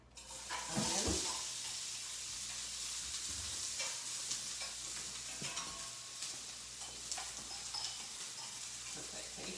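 Onions cook in a pan for coq au vin with a soft, steady sizzle, as a spoon scrapes and stirs them at close range. A brief louder clatter comes near the start.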